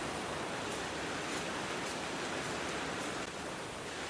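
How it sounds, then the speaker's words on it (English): Dense, steady hiss of heavy rain drumming on a thin covering, continuous and enveloping with no pauses. "It's very nice being in the polytunnel gardening when it's tipping down with rain outside."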